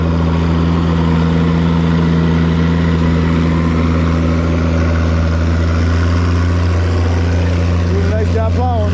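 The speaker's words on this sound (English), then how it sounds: "Pretty rare tractor here" An Oliver tractor pulls a plow across a field, its engine running at a steady, loud, low drone throughout with little variation in rhythm.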